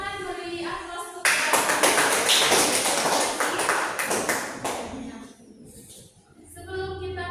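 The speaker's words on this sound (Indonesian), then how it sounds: "silakan beri aplaus untuk" Applause from students in a classroom, loud sustained clapping that bursts in after a teacher's voice, rolls on for about four seconds, then fades as she resumes speaking.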